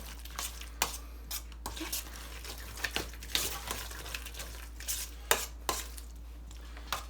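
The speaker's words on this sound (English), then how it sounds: "You're gonna mix it up, like so." Guacamole is mixed in a bowl with a utensil, giving repeated soft scraping, tapping and squelching strokes at an irregular rhythm, close but quiet over a low steady hum.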